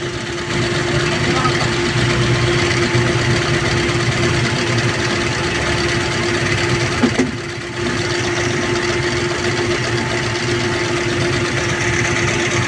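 A car engine idles roughly with steady vibration, a loud constant hum with a humming tone throughout and a brief dip midway, heard close up.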